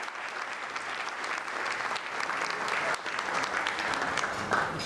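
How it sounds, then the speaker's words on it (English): Sustained audience applause at a banquet event after a choir performance, steady dense clapping throughout at moderate loudness, with faint crowd murmur underneath. "How about another round of applause for these lovely ladies?"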